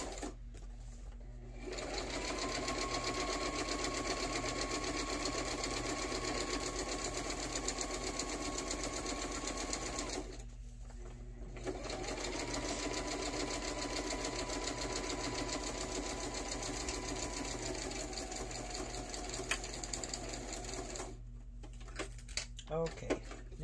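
A sewing machine runs a straight stitch along the edge of a fabric envelope in two steady whirring bursts of about eight and six seconds, separated by a short pause, close and clear.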